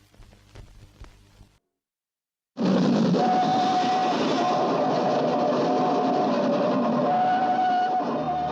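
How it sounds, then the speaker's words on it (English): A train travelling through the Yorkshire countryside: a brief patch of speech-like sound, a short silence, then a loud, steady rumbling roar with a sustained whistle-like tone running on and on. "A train that takes you deep into the Yorkshire countryside."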